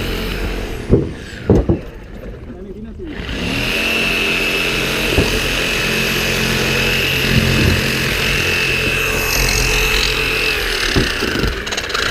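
During a rescue drill, a power saw starts cutting inside a structure after a few short knocks and then runs as a loud, continuous whining roar at close range.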